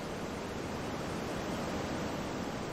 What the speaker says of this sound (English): So this is the river, roaring its own name into the stone.